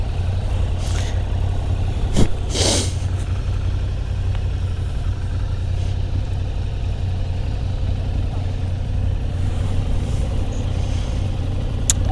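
A 2021 Yamaha MT-07 motorcycle on a ride, a loud steady engine drone with heavy wind rumble, constant throughout with a couple of brief sharp noises.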